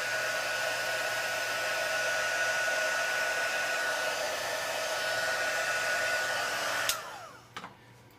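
Steady loud blowing hum of a heat gun shrinking heat-shrink tubing over terminals, running close by for several seconds before switching off with a few clicks.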